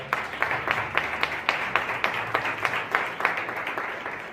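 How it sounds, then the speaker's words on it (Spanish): An audience at a book presentation gives a round of applause, individual claps clearly audible in a fairly even, moderately paced rhythm, with a few hands close by. "también un aplauso, por favor."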